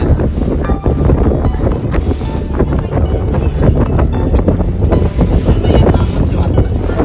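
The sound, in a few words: river waves and wind during boat ride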